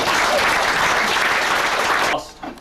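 A crowd at a cricket club gathering claps warmly in sustained, dense applause that fills the space, then stops abruptly near the end.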